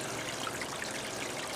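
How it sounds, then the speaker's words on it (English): Water runs steadily out of the sluice of a small gold wash plant, a close, even hiss of splashing flow with no pauses. "I've got water running out of the sluice"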